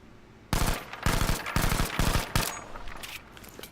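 Close-range weapon tap-fired in Battlefield V, several loud gunshot bursts in quick short groups, each cracking sharply then decaying, with no talking.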